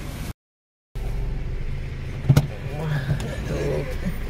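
A car rolls in to park at Kanan Pendari Zoo in Bilaspur, Chhattisgarh, with a steady low engine and road rumble heard from inside, a brief gap, a couple of sharp knocks, and people talking over it.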